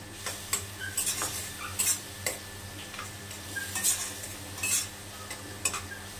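Spice paste for a taro curry fries in a pan while being stirred, a soft steady sizzle broken by repeated scraping and clinking of a metal spoon against the pot, close and moderately quiet, no talk.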